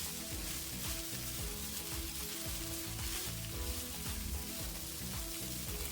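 Sabudana fries and is stirred in a pan for khichdi, producing a dense, continuous sizzle with steady scraping of stirring.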